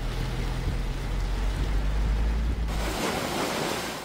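Big ocean waves churn and crash against the shore at a resort during a super typhoon, a loud continuous roar with heavy wind buffeting the microphone.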